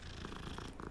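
A cat purrs steadily in Hogwarts Legacy, a soft continuous rumble with regular pulsing breaths, close and alone without talk.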